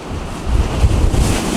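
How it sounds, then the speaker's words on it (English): Strong nor'easter blizzard wind roaring across the microphone on a stormy coast, a loud, steady low buffeting rush that swells and gusts throughout with no voices. "Very, very windy."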